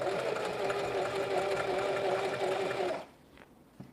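Singer Facilita Pro 4411 sewing machine stitching a zigzag, a steady rapid mechanical whirr for about three seconds before it stops, leaving faint room sound and a small click.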